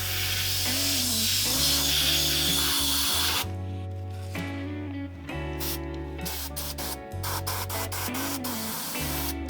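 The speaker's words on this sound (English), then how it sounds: "use just the air without paint to blow the isopropyl around" An airbrush spraying air without paint to blow isopropyl alcohol around a model bridge façade gives a loud, close, steady hiss. The hiss softens partway through and continues under a humming drone and some light clicks.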